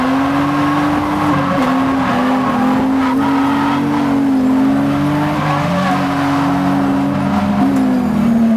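Cars drifting in tandem at a track day, a loud continuous engine drone with shifting pitch and tire noise, sustained throughout and heard from nearby.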